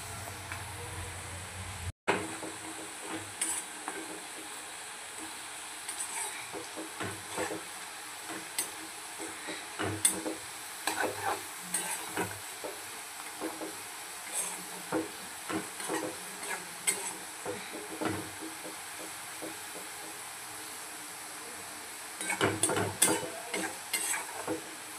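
Chopped onions sizzle steadily in a pan while being cooked for a spicy Bihari mutton curry, with a spatula scraping and clinking against the metal in irregular strokes and one sharp knock early on.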